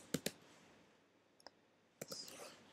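Close, crisp keystrokes on a computer keyboard while a new Java class is named in an Android development setup: two quick taps, a pause, a couple of light clicks, then a short flurry of typing near the end, with no voices.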